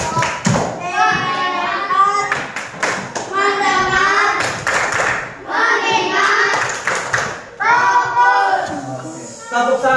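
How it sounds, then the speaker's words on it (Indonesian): Schoolchildren in a coding class perform a rhythmic focus-clap routine, sharp claps and taps interleaved with their chanting voices and an adult's spoken cues, close and lively. "Tepuk fokus."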